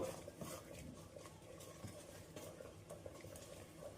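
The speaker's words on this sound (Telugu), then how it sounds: "రెండు స్పూన్ల కోకో పౌడర్ వేస్తున్నాను నేను మీ దగ్గర ఉంటే వేసుకోండి లేదంటే లేదు మామూలుగానే చేసుకోవచ్చు ఇదంతా ఒకసారి కలుపుదాం" Cocoa powder being stirred into ragi flour cupcake batter, giving soft, steady scraping and mixing sounds with occasional light utensil taps against the bowl, fairly quiet and close, with no talking.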